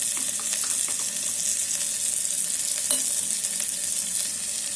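Soyabean chilli with ginger garlic paste fries inside an electric kettle, giving a dense, steady, close sizzle with a few light stirring clicks and no talking.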